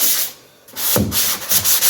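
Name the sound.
rough sanding drywall corner joint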